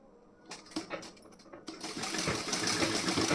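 Sewing machine stitching a folded blouse seam, starting with a few separate clicks and short bursts before settling into a steady, fairly close whirring run that grows louder toward the end.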